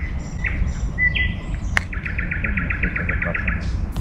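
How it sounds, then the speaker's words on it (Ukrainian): Birds sing in a chorus by the Dnipro river in Kyiv, with clear repeated chirps and a rapid trilling series standing out over a low background rumble. "Оркестр пташок в цій місцевості це щось особливе."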